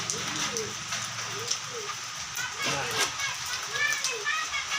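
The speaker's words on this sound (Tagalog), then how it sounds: "Ayan, umulan na naman" Rain falls steadily in a broad, continuous patter through a rainy afternoon, with children's voices and adult talk over it.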